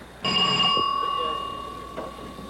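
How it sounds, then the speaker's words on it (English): A boxing ring bell strikes once to open round 2 of a light welterweight bout, a bright, loud ding that rings on and slowly fades, with a crowd and voices murmuring underneath. "The bell sounds in round 2 for the light welterweight."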